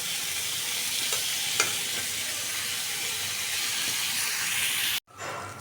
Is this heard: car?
no